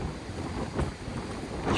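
Strong night wind gusts across the Lazarevskoye seafront during a storm, with rough sea surf roaring underneath; a loud continuous buffeting rush that swells around the middle and again at the end, no voices.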